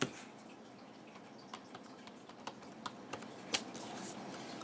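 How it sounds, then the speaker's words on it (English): Keys tapped one at a time while entering a password on a keyboard during a handheld device login, quiet scattered clicks at an irregular pace over a soft background hiss. "I'm going to type in my password."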